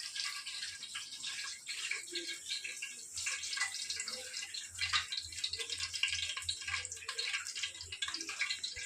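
Fish pieces already cleaned with lemon and salt are rinsed again under tap water, a faint, continuous splashing and trickling with small shifts as the pieces are handled.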